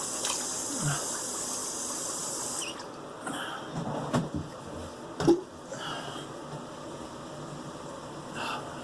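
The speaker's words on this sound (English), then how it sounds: "get a quick rinse" Tap water runs steadily while a vintage George Wostenholm IXL knife is rinsed, a continuous gushing flow broken by a few clinks and splashes, close and moderately loud with no talking.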